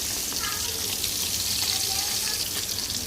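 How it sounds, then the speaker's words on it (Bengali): Dense, steady hissing and crackling of rohu fish frying in hot oil fills the space, with faint speech in the background. "এখন মাছগুলো ভেজে নিব"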